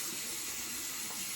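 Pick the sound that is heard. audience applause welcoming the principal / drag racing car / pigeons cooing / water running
water running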